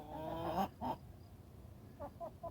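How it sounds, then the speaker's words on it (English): A few backyard chickens cluck close by, with one longer squawking call first, then a short pause and three quick soft clucks. "So these are our chickies."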